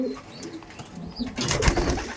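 A racer pigeon at a loft gives a soft, brief coo, close and fairly quiet, with a short rustle of louder noise near the end.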